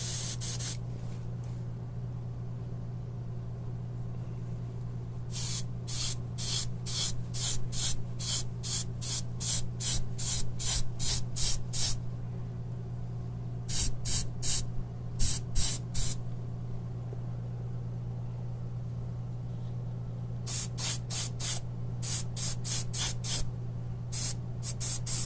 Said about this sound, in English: So I'm spraying mostly on the actual cardboard